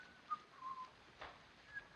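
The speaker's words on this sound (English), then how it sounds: "Oh, do stop whistling." A man whistles a thin wavering tune in short, intermittent phrases, close and fairly quiet against a faint room hiss in a 1935 film scene.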